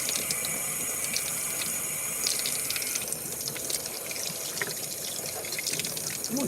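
Tap water running steadily into a sink to rinse a vintage Crissy doll, a continuous close splashing stream with faint clinks and shifting spatter.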